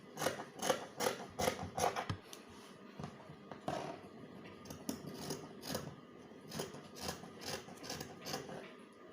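Scissors snip through fabric pieces for the front and back of an off-shoulder princess-dart bustier, a close run of crisp cuts with short pauses between them and no talking.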